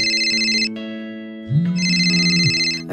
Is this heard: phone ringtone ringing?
yes